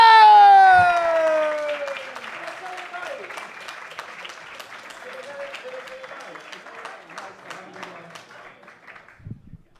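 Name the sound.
audience applause and cheering for comedian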